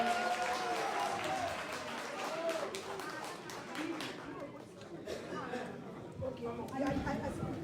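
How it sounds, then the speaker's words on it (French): A crowd applauds as a candidate is called to the stage at a political rally, with scattered clapping and loud chatter throughout, and a voice speaking over the noise. "Sous vos applaudissements, avec une très grande énergie, nous invitons M. Issa Masega Diawara de venir sur scène"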